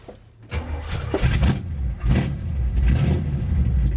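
A bare-metal Chevrolet Bel Air cranks and fires up in a cold driveway. The engine catches within a second and settles into a loud, rough idle with a few revs, close to the microphone.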